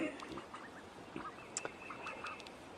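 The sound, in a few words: ducks quacking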